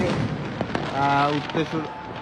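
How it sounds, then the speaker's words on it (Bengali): Fireworks and firecrackers go off in the night sky over the capital city, a few scattered pops and bursts heard over a voice talking. "ফোটানো হচ্ছে আতশবাজি, পটকা ও ফানুস"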